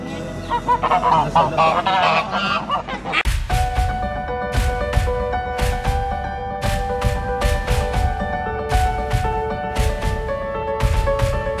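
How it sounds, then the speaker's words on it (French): A flock of geese honks loudly and repeatedly at close range, sharp calls overlapping in an irregular rhythm after a brief stretch of muffled noise. "Du canard. Les oies."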